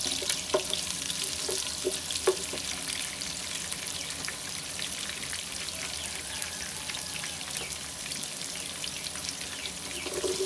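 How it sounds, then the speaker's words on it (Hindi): Onions with cumin and fenugreek seeds frying in hot oil give a steady, close sizzle with light crackles and occasional stirring clicks, continuous for about ten seconds with no talk. "प्याज को फ्राई कर लेते हैं।"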